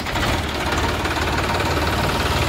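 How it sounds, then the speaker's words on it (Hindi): A Sonalika Sikander DI 745 III three-cylinder, 50 HP power-steering tractor engine idles close by with a steady, knocking diesel rumble, loud and even throughout. "पावर स्टेयरिंग में 3 सिलेंडर ट्रैक्टर है"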